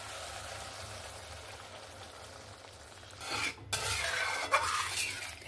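Water poured into a pan of oil-rich spiced potato curry after the masala has been fried down. A quiet low simmer gives way to a louder, rushing, sizzling wash that continues to the end. No one speaks.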